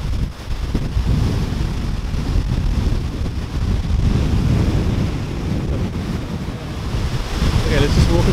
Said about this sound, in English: That's the sheer force of water coming down there.